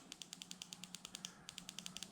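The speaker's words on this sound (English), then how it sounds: "but now it clicks every time." A motorcycle fuel injector, previously stuck after the bike sat unused for a long time, clicks open and closed in a quick, even, metronomic series of sharp ticks, faint and close, with one short pause partway through.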